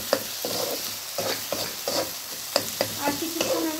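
A spoon scrapes and stirs through spice paste frying in oil, roughly eight rhythmic strokes over a constant sizzle, close up and without voices.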